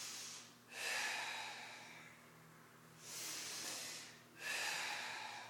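A person breathes in deeply and audibly through the nose during an energy exercise routine, three long hissing inhalations close to the microphone with quieter pauses between them, and no talk.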